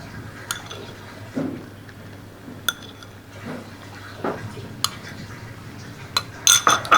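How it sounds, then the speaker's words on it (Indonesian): Tofu soup thickened with corn starch being stirred in a pot, with light utensil clinks and scrapes against the metal recurring irregularly at moderate volume, sharper clatters near the end. "Kita aduk sampai airnya benar-benar kental."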